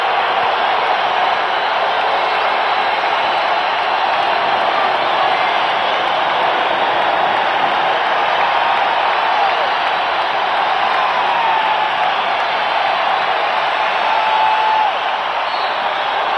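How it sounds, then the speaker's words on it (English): Crowd in a basketball arena at a Chicago Bulls game against the Detroit Pistons, a dense steady roar of cheering and applause sustained at high level throughout, with no break in the noise. "This crowd trying to get the Bulls going right here."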